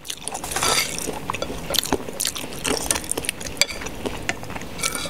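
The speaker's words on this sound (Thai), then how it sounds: "เคี้ยวได้ทั้งกระดูกเลยอ่ะ" Close mouth sounds of chewing soft, slow-stewed chicken bones from a Thai chicken noodle soup, a steady run of small wet crunches, squishes and clicks with no speech.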